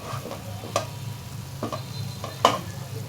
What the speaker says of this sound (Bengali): সো আমি এখন নাড়বো আর ঢাকনা দিব না